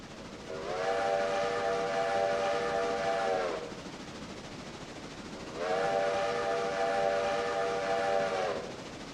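A steam train runs with a steady rumble as its whistle gives two long, loud harmonic blasts, each lasting about three seconds with a short pause between them.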